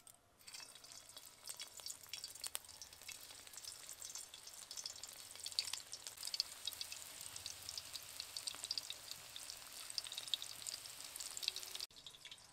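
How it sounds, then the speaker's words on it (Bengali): Stuffed bitter gourds sizzle quietly in hot oil, a soft continuous crackle with occasional pops, faint and steady throughout. "এবার এই পুর ভরা করলাগুলোকে দিয়ে ভালো করে ভেজে নেব।"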